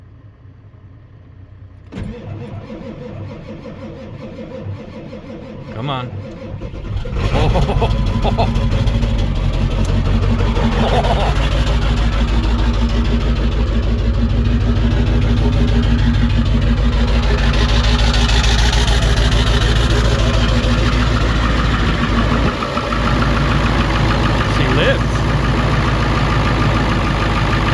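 A 7.3 Powerstroke diesel truck engine cranks briefly, then catches and settles into a loud, steady rumbling idle close by, with a short spoken line near the start.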